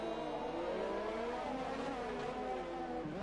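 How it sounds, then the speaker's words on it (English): Racing-game car engine revving very high in first gear out of a corner on the Singapore circuit, a loud sustained whine with pitch rising and falling across the clip, ending in a quick downshift dip, alone without talk. "Oh, Mikey getting the revs really high there, using first gear coming out of that corner."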